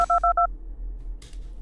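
A telephone in the video game Five Nights at Candy's 2, heard as four short, clean dial-tone beeps in quick succession over a low hum, followed by a brief burst of noise.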